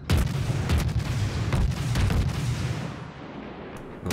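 Naval guns firing in World of Warships, the cruiser Krasni Krim shelling the battleship Wyoming: several heavy booming salvos in quick succession with rumbling tails, fading toward the end before one more blast.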